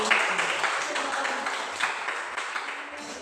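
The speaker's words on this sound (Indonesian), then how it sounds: "kalau sudah tepat, tepuk tangan dulu untuk kelompok Umi" Classroom students clapping for a group after a correct answer, a moderate, somewhat quiet patter of many hands with faint room noise.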